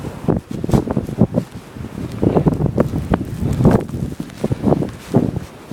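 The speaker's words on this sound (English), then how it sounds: "The winds are gusting up to right at 60 right now" Strong blizzard wind gusting to around 60 mph during a Chicago snowstorm, roaring and buffeting the microphone in uneven surges with rustling, no talk.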